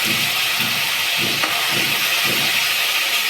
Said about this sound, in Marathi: मोहरी झाल्यावर आपल्याला त्यात कांद्याची पेस्ट टाकायची.